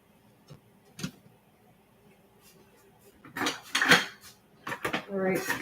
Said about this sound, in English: I'm going to just do some dishes while we wait for the muffins to come out of the oven